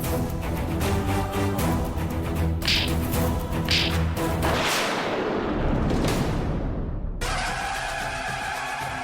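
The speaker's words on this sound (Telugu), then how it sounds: "అది చెంపదెబ్బ శబ్దమా?" A series of loud, booming cracks like exaggerated slaps repeats over a dense, noisy backdrop, with the final hits ringing out.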